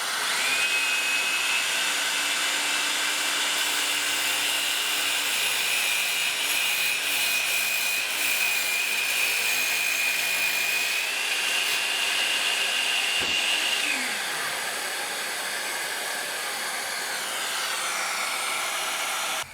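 A DeWalt 20V MAX 7-1/4 inch cordless miter saw cuts through wood while a shop vacuum runs for dust collection: a loud, sustained high whine and rasp holding steady, then dropping slightly in pitch and level near the end, with no talking.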